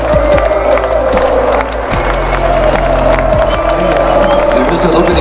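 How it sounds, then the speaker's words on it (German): Spectators fill a football stadium during a 2015 HSV versus Dortmund match, a broad continuous crowd roar with scattered clapping and cheering, while someone talks over it close by. "Ihr hört selber, die Zuschauer sind alle zufrieden"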